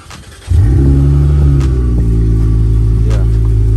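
Chrysler 300 engine barks to life and revs hard, a loud, close, steady low rumble holding for several seconds after a short idle start, with no talk over it.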